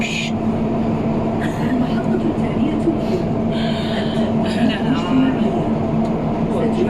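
Steady loud rumble and hum inside a moving Riyadh Metro train carriage, constant rolling noise throughout, with people talking over it.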